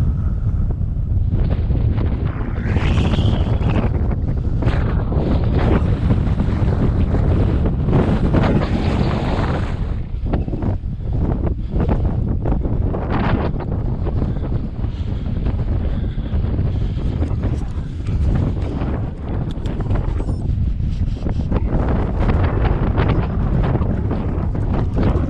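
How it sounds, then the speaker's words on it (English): Strong, gusty wind roars across the microphone throughout an off-road bicycle ride in open country, loud and continuous with rising and falling buffets. "Super windy up there, but just stopping here."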